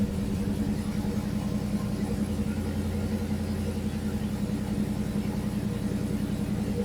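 A junkyard LS V8 running just after start-up on a Holley TerminatorX Max controller, idling steadily with a loud, even low rumble and a constant throbbing pulse, close by and alone with no talk.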